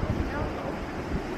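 Strong wind gusts buffet the microphone outdoors in Finland, a dense low roaring rumble with soft irregular thumps, steady and close for the whole short moment.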